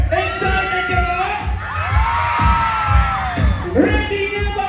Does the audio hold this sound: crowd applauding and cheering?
yes